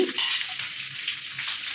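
Whole spices and ginger fry in a hot pan for a crab roast, giving a bright, steady sizzle with faint stirring scrapes and no talking.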